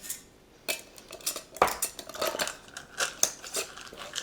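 A lid goes onto a canning jar of beans with a quick series of close metallic clinks, taps and scrapes, followed by light handling noises.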